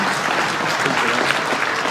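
Applause from an audience in Zgorzelec honoring an inventor and ice cream and chocolate maker, a steady, dense wash of many hands clapping together throughout.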